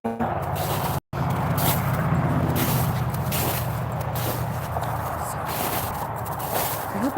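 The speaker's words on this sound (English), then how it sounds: "I know you can hear the traffic. I know it's loud." Loud, steady road traffic with cars passing close by, a continuous broadband rumble and hiss that carries on throughout, with a brief dropout near the start and a voice faintly heard over it.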